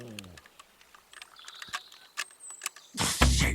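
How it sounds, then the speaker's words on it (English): Lock being picked in the video game Kingdom Come Deliverance 2: a run of small metallic clicks and faint creaks ticking irregularly, close and quiet, ending in a louder clunk. "I'm trying to break into a lock."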